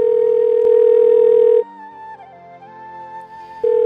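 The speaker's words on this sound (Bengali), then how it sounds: "রিং হচ্ছে, কিন্তু মেঘ ফোন ধরলো না।" A phone call rings out unanswered: a loud steady tone runs for a second and a half, breaks off into two seconds of quieter mixed tones, then starts again.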